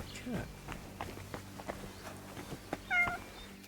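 A cat meows briefly in a medieval village in Kingdom Come: Deliverance, one short rising call near the end, over scattered footsteps, ambient game sounds and a few faint voices.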